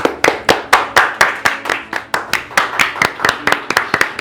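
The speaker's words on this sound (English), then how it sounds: "Have a big round of clap." A small audience at an internship certificate ceremony for future legal professionals claps in a steady, sharp rhythm. The claps are close and loud, with no talking over them.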